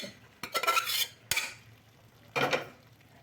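Beef curry being stirred in a metal cooking pot: three scraping, clattering strokes of a spoon against the pot, close and fairly loud, with short gaps between them.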